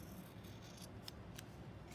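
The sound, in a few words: scissors sliding while cutting hair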